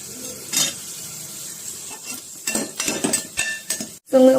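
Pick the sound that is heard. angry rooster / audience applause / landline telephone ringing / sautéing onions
sautéing onions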